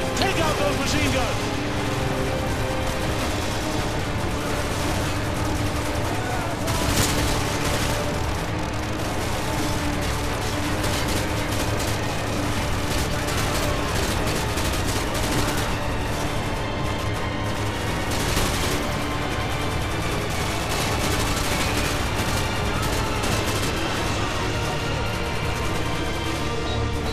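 Machine gun fire in the video game Modern Warfare 2, dense, sustained bursts of gunfire and explosions forming a constant loud battle din, with a voice talking over it.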